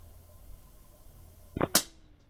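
Two quick suppressed gunshots fire close together, each a dull crack with a soft thud as bullets hit a dirt berm, over a faint hum of background noise.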